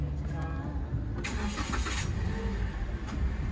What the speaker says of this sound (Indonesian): Mesin nyala ya.